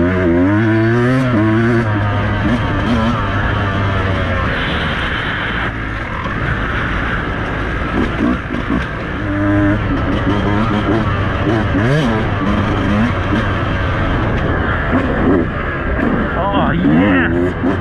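A Beta enduro motorcycle is ridden on a Green Park Conondale enduro track, its engine droning and revving steadily and up close throughout, with wind noise and what may be voices underneath.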